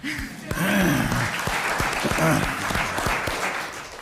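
Applause at a Pennsylvania Senate State Government Committee hearing, steady clapping from a crowd in the room lasting several seconds, with voices mixed in underneath.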